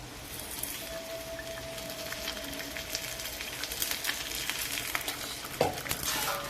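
Ghee poured onto a heated piece of coal to smoke biryani gives a steady, soft, close sizzle and crackle with no talking, and a brief sharper hiss near the end.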